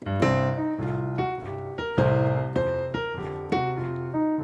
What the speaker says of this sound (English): the first exercise is an 8th note exercise